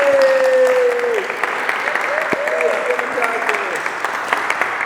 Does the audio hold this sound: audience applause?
yes